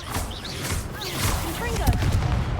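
A Bombarda blasting spell cast in the Hogwarts Legacy video game, heard as a few thumping bursts and booms under spoken voice in a busy game soundscape.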